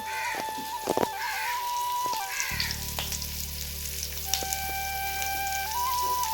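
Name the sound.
masala paste frying in oil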